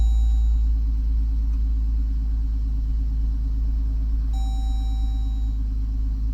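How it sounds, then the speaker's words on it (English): A Jeep Grand Cherokee Limited engine idles steadily with a strong low rumble and a few faint electronic tones above it, close and continuous, with no one talking. "I'm going to start the car"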